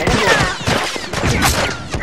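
Fortnite shooter gameplay with a dense, continuous burst of gunfire and overlapping shots, loud and close, a sustained fusillade with no pauses across the short stretch.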